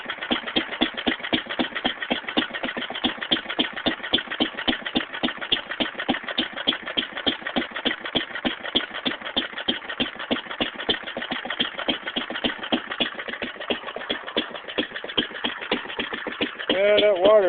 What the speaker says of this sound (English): That's a sweet little engine.